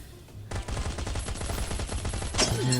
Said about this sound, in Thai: กระสุนเชี่ยวไปเชี่ยวมาเต็มไปหมดเลย